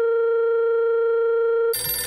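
A telephone rings with one steady, loud electronic tone that holds for nearly two seconds before cutting off abruptly as the line is picked up.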